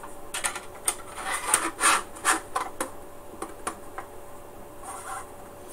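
Trimming the top off a 3D printed plastic part, heard as a quick series of close, scraping rasps and rubs at an uneven rhythm, with no talking.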